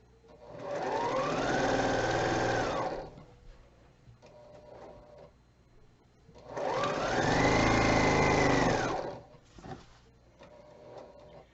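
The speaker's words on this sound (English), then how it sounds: "don't forget to back stitch since you're putting a border on" Sewing machine running two long stitching passes with a short back stitch along a quilt border, a loud steady mechanical whir rising and stopping twice, with quieter clicks in between, no talking.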